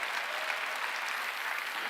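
A church congregation applauds during a sermon, a brief dense burst of steady clapping at moderate level with no talk over it.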